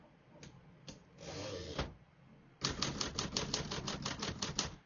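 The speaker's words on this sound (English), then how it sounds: "We're going to keep that on single for now and finish typing." Typing on a 1954 Remington Quiet-Riter portable typewriter: a few separate key strikes and a longer mechanical rasp come first, then a fast, even run of crisp, close keystrokes clacks out a line.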